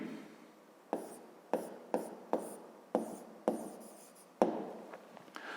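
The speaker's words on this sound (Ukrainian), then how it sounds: "Записуємо." A pen writes by hand during a fifth-grade math exercise, with quiet scratching strokes that come in short repeated bursts, close and faint.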